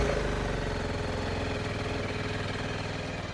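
A Zontes T310 adventure motorcycle's small engine runs at a steady, throbbing idle close by, rumbling evenly without revving.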